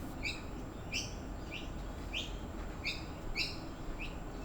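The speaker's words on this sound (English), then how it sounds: "It's a gorgeous bird." A garden bird foraging on the ground gives a series of short, clear chirping calls at a steady pace, standing out against a constant low outdoor background hum.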